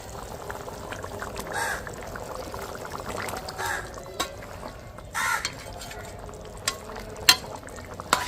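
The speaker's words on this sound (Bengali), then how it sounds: "আমি ঘুগনির আলু আর মটরগুলো একটু এইভাবে থেতো করে দিচ্ছি" Potatoes and peas being mashed into a simmering ghugni curry in a pot, giving soft, irregular squelching and scraping strokes with a few sharper utensil knocks, moderately close over a low bubbling background.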